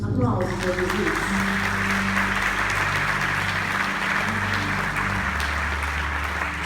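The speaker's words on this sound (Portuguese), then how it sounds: "Aplausos a Jesus. Aplausos para Jesus." A church congregation applauds in a steady, full wash of clapping, with a low hum and faint voices mixed beneath it throughout.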